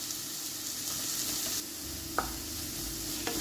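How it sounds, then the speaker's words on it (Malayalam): Sliced onions sauté with salt in a pan for a sausage roast, giving a steady, close sizzle with occasional stirring scrapes and a sharp utensil tap; no one speaks. "ഇനി ഇത് നന്നായിട്ട് വഴറ്റിയെടുക്കാം."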